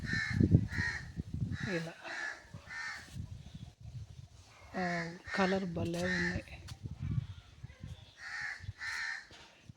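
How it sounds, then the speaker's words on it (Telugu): A crow caws repeatedly in short, harsh bursts at a moderate distance near a house garden, the calls coming in uneven clusters while a person talks nearby. "ఆ కాకి ఏందో తెగరుస్తూ ఉంది"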